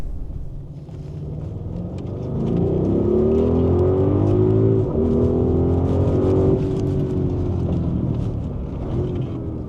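A 2023 Audi RS Q8 with quattro pulls hard from 30 to 70 mph. Its engine drone rises in pitch with quick gear shifts, heard from inside the cabin, loud and continuous, with no talk.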